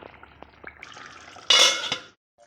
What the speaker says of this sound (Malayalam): കുറച്ചുകൂടെ ഒന്ന് നമുക്ക് ലോ ഫ്ലെയിമിലിട്ട് കുറച്ച് സമയം കൂടെ ഒന്ന് കിടക്കട്ടെ അടുപ്പിൽ